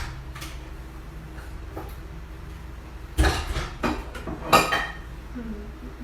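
Dishes and utensils being put away in a home kitchen while cooking, with a few quiet clinks early and then a couple of louder clattering bursts of plates and cutlery near the end, no talk.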